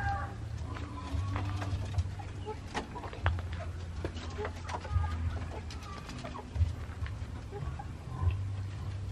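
Chickens on a farm clucking in scattered, repeated calls over a low steady hum, close and moderately loud, with a voice speaking intermittently beneath.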